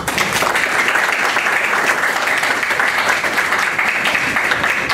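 An audience at a constitutional criminal law lecture greets a distinguished doctor with strong, sustained applause: dense, even clapping from many hands, filling the hall without pause.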